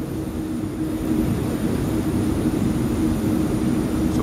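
HVAC unit running after a reset, its compressor giving a steady, loud, low mechanical drone with a constant hum, near and unbroken throughout.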